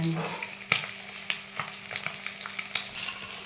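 Eggs fry in oil in a pan for an egg masala, crackling and sizzling close by with a series of sharp pops and spatula scrapes, and no one speaking.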